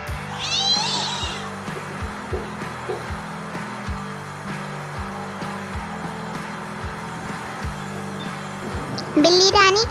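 A cat meows in bursts on a rooftop terrace, loud near the start and again at the end, over steady clattering background noise and a person speaking.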